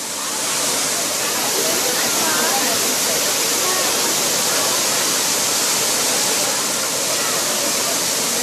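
Thiruparappu waterfall on the Kothai river in Kanyakumari pours down year-round, producing a loud, steady, unbroken roar of crashing water that fills the whole stretch.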